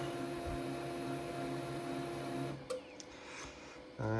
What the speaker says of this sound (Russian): Итак, включаем принтер.